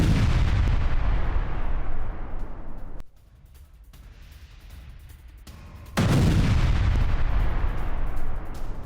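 Artillery fire during a Russian military attack in Donetsk: heavy, loud booming rumbles that roll on for seconds, ease into a quieter distant roar, then another big blast sweeps in, with no voices.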